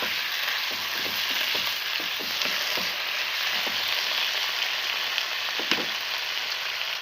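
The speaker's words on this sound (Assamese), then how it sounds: "এতিয়া মই বিলাহীখিনিও অকণমান দেৰি কাৰণে সিজাই লওঁ" Three small tomatoes fry in a pan with spinach and peas, giving a steady, close sizzle with faint crackles and occasional light clicks, no voices.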